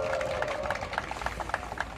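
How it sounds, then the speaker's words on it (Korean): An audience gives encouraging applause to students at a rally against the nuclear phase-out, a moderate crowd of scattered claps mixed with murmuring that stays fairly faint and steady. "여러분 학생들에게 다 같이 한번 힘을 내라고 격려의 박수 한번 크게 부탁드리겠습니다"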